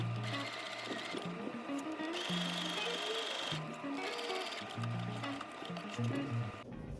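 A sewing machine stitches a seam on a muslin toile in steady bursts of rapid mechanical whirring that start and stop, with short pauses between runs and nobody speaking.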